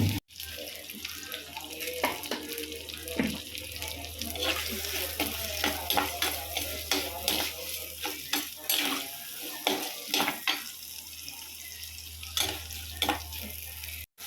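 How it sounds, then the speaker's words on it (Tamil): Garlic and onion fry in a clay pot for a dried fish curry, a steady sizzle broken by frequent stirring scrapes and knocks, close up, with running water and sink sounds mixed in. "வெங்காயம் சீக்கிரம் வதக்கிடும்."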